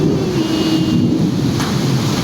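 Stormy weather in a village, with a steady roar of wind and rain and deep low rumbling like thunder, loud and continuous throughout with no voices.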